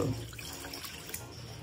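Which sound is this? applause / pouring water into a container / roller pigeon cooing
pouring water into a container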